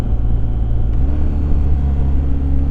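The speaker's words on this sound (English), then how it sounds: "The downshift is really nice." A BMW R1250 GS motorcycle engine rumbles steadily and close, its pitch stepping down about a second in as it downshifts, then holding a low, even drone.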